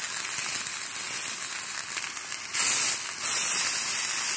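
Steak fat cap searing on a hot grill gives a steady broadband hiss and sizzle that swells louder partway through, with no one talking.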